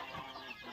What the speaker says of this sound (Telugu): చూడండి మన కోళ్ళు అయితే వచ్చేసి ఇట్లున్నాయి